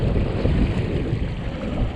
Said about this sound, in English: This wind is shifting like a lot.